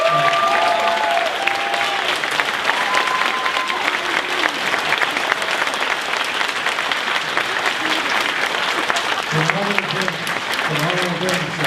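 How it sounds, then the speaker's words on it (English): Sustained audience applause at a fan convention's opening ceremony, honoring the volunteers and helpers, with steady dense clapping throughout and a few whistles and cheers rising over the crowd. "give all of those volunteers and helpers a big round of applause"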